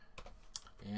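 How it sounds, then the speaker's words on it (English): A computer keyboard clicks as HTML is typed, with a few quick, faint keystrokes close by in a quiet room. "let's type in our HTML"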